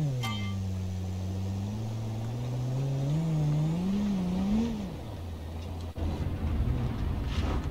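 An off-road vehicle in BeamNG drives along technical forest trails, its engine droning steadily and then climbing through rising revs before settling, with rougher rumbling and clatter toward the end.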